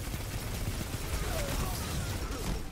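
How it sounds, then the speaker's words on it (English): Gunfire from a Destiny 2 Crucible match, with scattered pistol and machine-gun fire under a constant wash of game noise and some talk. "you got pistols getting in the fight, definitely some machine guns"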